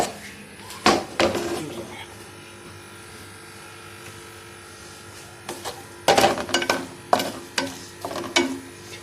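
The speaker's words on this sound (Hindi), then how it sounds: "अभी इसी ऑयल में मैं ये प्याज डाल दूंगी।" Onions fry in oil in a pan for a minced-meat and bitter-gourd dish, a soft steady sizzle broken by loud clattering stirring bursts near the start and again toward the end.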